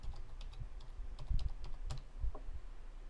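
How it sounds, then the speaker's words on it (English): Typing on a computer keyboard, a run of quick, irregular key clicks at close range with a few heavier strokes, no talking. "you'll simply type Whisker"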